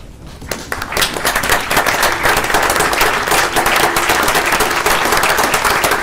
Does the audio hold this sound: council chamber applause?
yes